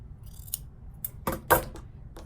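Scissors snip fabric for a handmade needle book: a handful of short, crisp metallic cuts at irregular intervals, close and fairly quiet, with no talking.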